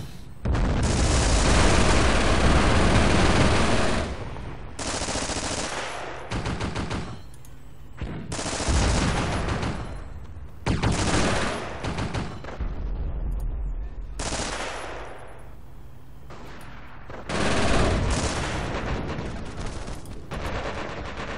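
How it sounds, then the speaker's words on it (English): A mortar barrage in Company of Heroes rains down in heavy bursts: booming blasts and rattling gunfire come in loud waves separated by brief lulls, with explosions stacking close together throughout. "Let me put out another mortar barrage over here."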